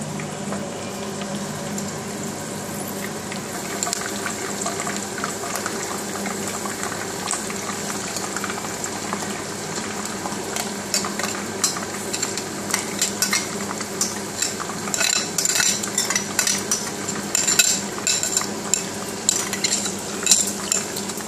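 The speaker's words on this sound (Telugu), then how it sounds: "కొంచెం సేపు బాగా వేగనివ్వాలండి ముద్దని" Masala paste fries and is stirred in hot oil with curry leaves in a pan for sora pottu kura, a steady sizzle under repeated scraping and clinking of a spoon against metal, getting busier toward the end.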